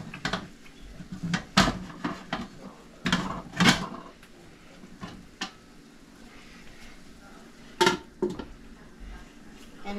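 Clanks and knocks of a metal lid and cookware as a pot of chicken adobo is covered in a home kitchen, several sharp irregular hits scattered over quiet background.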